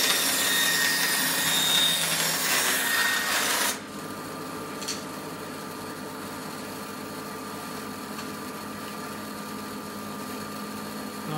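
A power saw cuts through an old wooden beam being turned into figured turning blanks: a loud, dense cutting roar for about four seconds, then a sudden drop to a steady, quieter machine hum as the blade runs free, with no talking.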